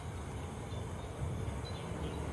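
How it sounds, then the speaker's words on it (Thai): A steady, rumbling roar of passing road vehicles fills the air, broad and continuous, swelling slightly as traffic goes by at a moderate distance. "ติดถนนเนาะก็มีเสียงรถเข้ามาบ้าง"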